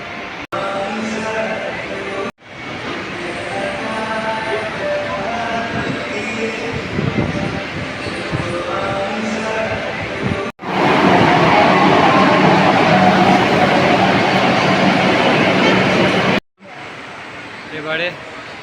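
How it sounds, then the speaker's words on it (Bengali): Steady loud rumble of a moving train carriage, continuous rolling noise with abrupt cuts between segments, voices faintly mixed into the din. "চলুন যাই তাহলে ট্রেন ধরে"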